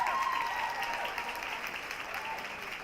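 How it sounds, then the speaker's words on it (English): An audience at a brokerage investor relations awards ceremony applauds an award presenter with a moderate, steady patter of clapping. A faint amplified voice or tone runs underneath, and the sound stays fairly distant. "Give her a round of applause for me, guys"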